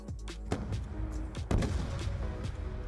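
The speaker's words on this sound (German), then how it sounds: "Eine Explosion." Booming blasts in Call of Duty Black Ops 2, an explosion among several sharp heavy detonations and gunfire hits spaced through the clip, loud and close.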